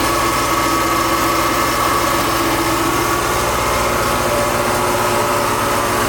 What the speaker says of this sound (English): let's see what the engine does while it's running